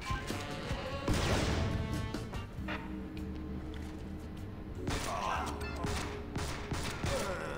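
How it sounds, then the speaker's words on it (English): Gunfire from the third-person shooter video game Counterspy, with rapid bursts of shots, crashes and impacts layered over steady game background sound at moderate loudness. "I find it funny how the shooting in this game feels better than most third-person shooters that come out today"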